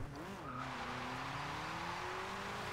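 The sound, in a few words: Toyota Celica setting off in second gear, Forza Horizon 2 video game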